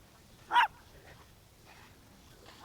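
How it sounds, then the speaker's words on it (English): A small overheated dog giving a single short whimpering yelp near the start, followed by faint breathy panting sounds, quiet outdoors. "Little dog getting overheated."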